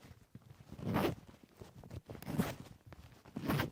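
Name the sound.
YKK zipper on leather jacket interior pocket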